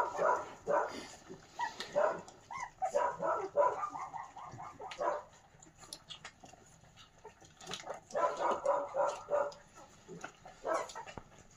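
Several small puppies whimper and let out high yips and little barks in clustered bursts with short quiet gaps, fairly faint and close in a quiet indoor room.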